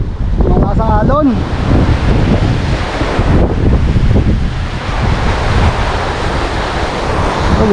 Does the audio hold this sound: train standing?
no